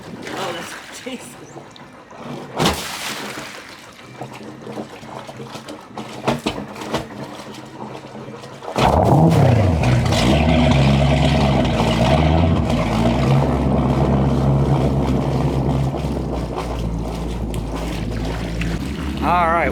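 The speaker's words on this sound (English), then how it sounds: "we got both engines running good." Twin engines of a 1989 Sea Ray yacht idle at a lake dock, kicking in about halfway as a loud, steady low rumble. Quieter handling noises and wind come before the start.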